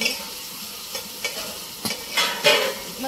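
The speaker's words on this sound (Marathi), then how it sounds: "मग अशी भेंडी आपण परतून ठेवली होती" Village-style okra sautés in a pan, a soft steady sizzle under a few close scraping strokes of a spatula stirring, the last ones louder and longer.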